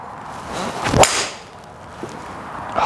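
A TaylorMade SIM2 fairway wood strikes a golf ball with a single sharp whip-like swish and crack near the middle, followed by fainter background noise, with no voices.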